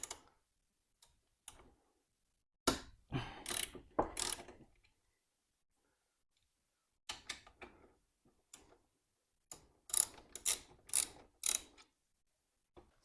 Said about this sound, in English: Now we need to remove this bolt here with a number 12 ratchet or socket